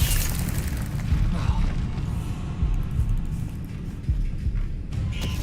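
An Incendio fire-spell blast in the Hogwarts Legacy video game: a deep, rumbling boom of flame that rolls on for several seconds. It is loud and close, with scattered crackles over the low roar.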